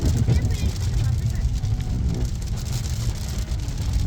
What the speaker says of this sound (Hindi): फुल ठंडी बारिश और हवा इधर चल रही है ताइफ में